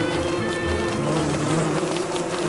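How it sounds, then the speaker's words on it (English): Bees from the video game Don't Starve buzz in a steady, unbroken drone, fairly loud and close, with no other sounds. "A bunch of homeless bees, too."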